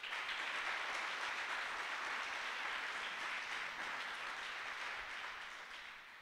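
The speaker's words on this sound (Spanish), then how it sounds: "Demos un aplauso al Señor de bienvenida." A church congregation gives sustained applause during an evening service, a dense, even wash of many hands clapping that stays steady and fairly distant before easing slightly at the end.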